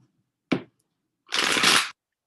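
Tarot cards are shuffled in two bursts: first a single sharp snap, then after a short pause a dense riffle lasting about half a second, close and alone.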